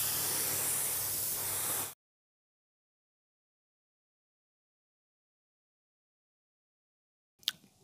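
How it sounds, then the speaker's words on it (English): A steady, loud hiss of an automotive paint spray gun spraying sealer runs for about two seconds, then cuts off to silence, followed by a brief faint noise at the end. "So the gun's spraying really well."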